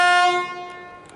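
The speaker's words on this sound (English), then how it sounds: "And looks as though the train's now departing." A train horn sounds as the train pulls out of the station, a steady chord of bright tones, loud at first and then slowly fading, with no talk over it.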